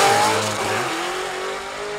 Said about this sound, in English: Blasting down George Henson out of Tomball, Texas on 2006 GTO